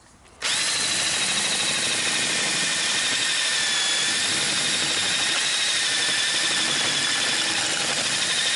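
A cordless drill turns a valve seat cutter in a 1927 Franklin engine, starting abruptly and then holding a loud, steady whine with a grinding edge, with no talking.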